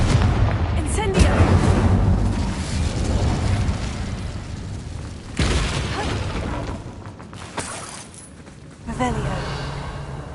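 Confringo and Incendio fire spells in a video game go off as booming blasts, a heavy one near the middle and another toward the end, over a continuous rumble of game noise with a voice talking throughout.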